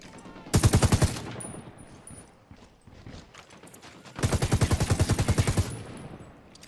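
Two long, loud bursts of automatic gunfire from a squad engaging a gun turret in Tom Clancy's Ghost Recon Wildlands, each a steady rattle of rapid shots separated by a few seconds of quieter ambience.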